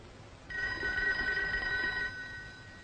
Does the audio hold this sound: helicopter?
no